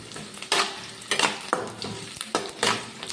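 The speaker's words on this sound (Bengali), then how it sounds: "পেঁয়াজগুলো হালকা হালকা আমার ভাজা হয়ে গেছে" Onions sizzle in a pan while a utensil scrapes and stirs in repeated bursts, roughly every half second to second, with no talking.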